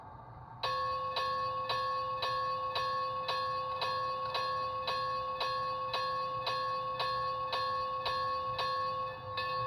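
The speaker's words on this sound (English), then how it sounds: "So the bell's gonna sound faster than it was earlier." A small automatic bell on a Bachmann Spectrum HO-scale 2-8-0 Consolidation model locomotive with DCC sound rings in a steady, quick rhythm, each bright ding evenly spaced over a low background hum, continuing throughout.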